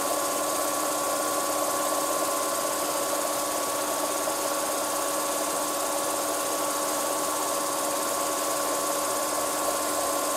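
Steady mechanical hum of a leak detector running on a freshly sealed Edison effect lamp, with strong constant tonal lines and a broad even drone, loud and unbroken throughout with no speech.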